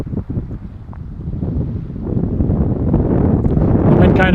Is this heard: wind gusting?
yes